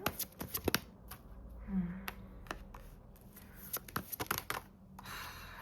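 Tarot cards are shuffled and drawn from a deck in quick, close riffles and soft flicks, with a few separate slaps and rustles in a quiet room.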